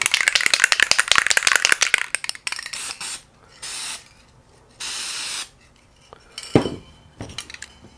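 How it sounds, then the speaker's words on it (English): A Krylon spray paint can rattles rapidly for a couple of seconds, then releases several loud hissing bursts of spray with pauses between them while a pinball backglass is painted; no one speaks. "So let's spray some more"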